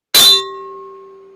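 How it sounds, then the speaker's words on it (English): A notification bell sound effect gives one loud metallic clang, then a clear ringing tone that decays slowly, alone with no voices. "Hit that notification bell"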